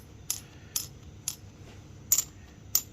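Five light, bright clinks of a small plastic amulet coin made of Japanese plastic (1955 second-edition Luang Pho Opasi coin) tapping, glass-like, evenly spaced at first, then two slightly louder ringing taps at the end.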